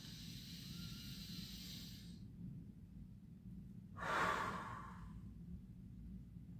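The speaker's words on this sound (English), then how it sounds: "inhaling through our nose to a count of 8 and exhaling through our lips to a count of 8" Slow breathing in an 8-8 pattern, a long soft exhale fading out, a pause, then a louder breathy inhale-like rush that tapers off, close and quiet.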